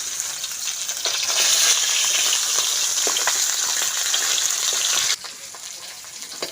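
Fish frying in hot oil gives a loud, continuous sizzle that drops suddenly near the end, with faint stirring clicks throughout.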